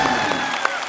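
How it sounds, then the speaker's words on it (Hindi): A short stretch of dense studio audience clapping on a TV comedy show, steady and fairly loud. "बस अब जोरदार तालियां हो जाए मेरे।"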